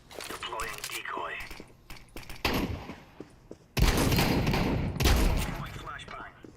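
A decoy grenade in a shooter game mimics gunfire with bursts of rapid shots mixed with thumps and crunches, loud and close, while voices talk over parts of it.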